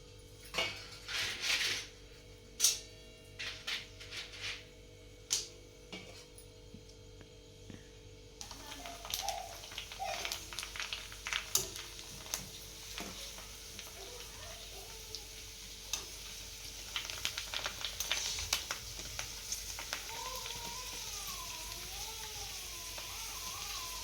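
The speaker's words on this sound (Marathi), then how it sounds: "पुऱ्या तळते मी या ठिकाणी आता" Puris deep-frying in oil make a soft, low sizzle with intermittent clinks and taps of utensils against a pan, quiet and close, with faint voices in the background.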